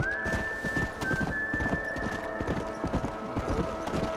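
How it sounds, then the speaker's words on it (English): Horses' hooves clip-clop in a quick, steady rhythm in the video game Red Dead Redemption, with a thin high tone held above and a faint horse whinny. "Ahí están los caballos."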